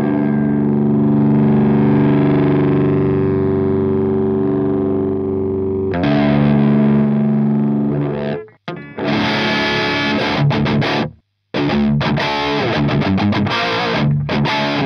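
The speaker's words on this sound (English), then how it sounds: "Let's go with a more high gain tone." An electric guitar played through an Orange Dark Terror 15W valve amp on a high gain setting rings out with loud, saturated distortion, first sustained held chords, then choppy palm-muted riffing with abrupt silent stops.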